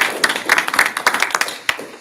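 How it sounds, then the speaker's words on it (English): Brief scattered clapping from a small group at a school district governing board meeting, a handful of sharp, close claps over about two seconds. "So I just want to give you a round of applause."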